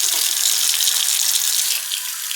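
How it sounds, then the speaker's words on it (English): Water runs steadily from a kitchen faucet into a pan, a close, continuous hissing splash that holds even and loud, softening slightly near the end. "I'm just going to put some water in it."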